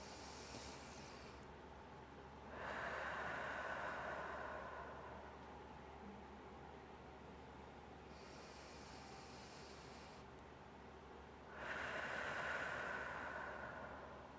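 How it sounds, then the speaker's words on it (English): Two slow, deep breaths come close and soft: each a long airy inhale hiss followed by a broader exhale, separated by quiet pauses over a faint background hum. "take 3 deep breaths"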